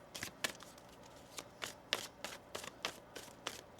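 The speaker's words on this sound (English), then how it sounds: "One more shuffle." A deck of tarot cards is shuffled by hand in quick, close riffling bursts, about a dozen soft papery flicks in an uneven rhythm, quiet and with no talking.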